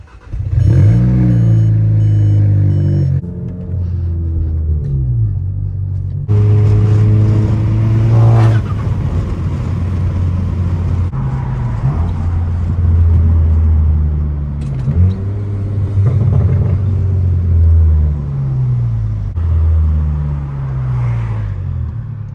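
Tuned Volkswagen GTI with a Stage 2+ setup driving, its engine rising and falling steadily through repeated gear changes, loud and close throughout with no talking.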